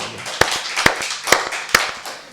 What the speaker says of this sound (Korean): 살아계신 하나님께 박수 영광 드리겠습니다